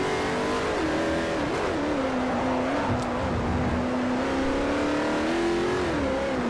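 Koenigsegg supercar in Forza Motorsport 4 racing hard, its engine droning loud and steady throughout with rising and falling revs as the car slides through corners, tire noise mixed beneath.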